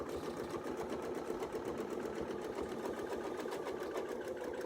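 A sewing machine stitches a quilt with a rapid, even needle rhythm, faint and steady, with no talking over it.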